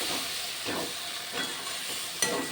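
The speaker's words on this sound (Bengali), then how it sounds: "খুব ভালো করে নেড়ে চেড়ে মশলা মিশিয়ে নেব" Potatoes and peas fry in a pan as turmeric and chili powder get stirred through, a steady close hiss of sizzling with soft scraping strokes of the spoon and a brief clink near the end, no voices.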